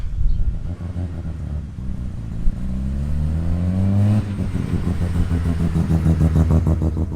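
A turbocharged JDM car engine revs hard and climbs in pitch, then holds at a loud, throaty idle with steady rumble, close by.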